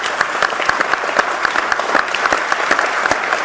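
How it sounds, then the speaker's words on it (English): Applause from an audience at a town council meeting, steady dense clapping with crisp individual claps standing out, fairly close and sustained throughout without talk. "one more round of applause for these folks"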